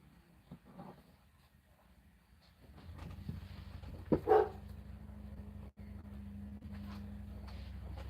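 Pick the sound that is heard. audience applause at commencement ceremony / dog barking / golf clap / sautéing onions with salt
dog barking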